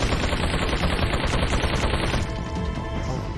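Enemy automatic gunfire in the video game Resident Evil 4 Separate Ways, a loud, rapid continuous rattle of shots that drops off sharply after about two seconds into quieter echoing noise.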